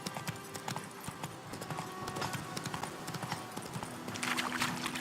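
Horse hooves clip-clopping at a steady walking pace in The Witcher 3 video game, close and fairly loud, with faint background ambience and a brief rise in hiss near the end.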